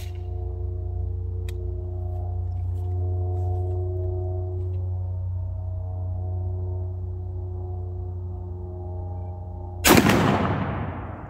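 A 12 gauge shotgun fires a Browning BXS sabot slug at a 50-yard range, one loud, sharp blast near the end after a long stretch of steady engine-like hum.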